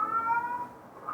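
A cat meows in a drawn-out, wavering cry amid a cat compilation, fairly loud and close, with no talking over it.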